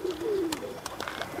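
A pigeon gives a short, close coo, with faint rustling and soft clicks around it in a pigeon setup.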